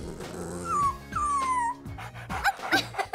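Robot toy puppy giving a few short whimpering, whining cries with sliding tones, close and fairly clear over a faint electronic background, with brief yips toward the end.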